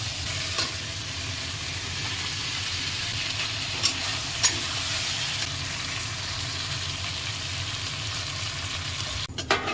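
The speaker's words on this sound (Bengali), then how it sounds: "তারপর যে ভেজে রাখা পটল আর আলুটা দিয়ে দেবো" Pointed gourd and potatoes frying in masala in a pan give a steady close sizzle under soft stirring scrapes, with a couple of brief clicks and a rattle at the end.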